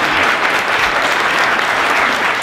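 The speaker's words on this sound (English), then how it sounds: "please, a great round of applause for Donna." Hearty round of applause from an audience at a quilt unveiling at White Point, dense and continuous clapping throughout.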